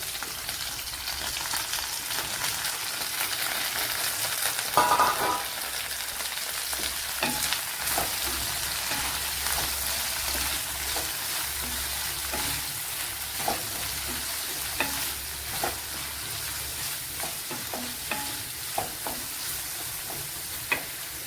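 Chopped medium onion frying in a pan for a bitter gourd dish, a steady close sizzle with occasional stirring scrapes, running continuously without voices.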